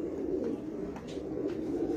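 Pigeons, prized high-flying pigeons, coo in low, rolling murmurs that repeat steadily close by, with a faint background hum and no talk.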